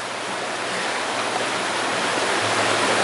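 Rushing river water at a trail river crossing on the Pacific Crest Trail, a steady full-band roar of flowing current that stays loud and unbroken throughout.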